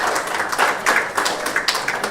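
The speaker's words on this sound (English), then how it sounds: "Madam Joyce needs a better round of applause" Round of applause from a conference audience, scattered claps rising and falling in a moderate, somewhat uneven burst at middle distance.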